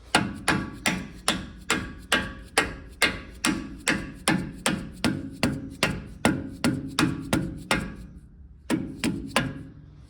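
A hammer taps a brake part into place on a Dana 44 axle from a 1978 Ford Bronco: about two dozen sharp, evenly spaced metallic knocks, close and fairly loud, with a short pause before the last few strikes.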